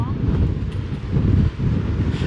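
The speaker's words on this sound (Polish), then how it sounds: "Strasznie wieje." Strong wind buffets the microphone outdoors on a cold day in Liverpool, a constant low, rumbling roar that stays loud throughout, with a voice faintly present underneath.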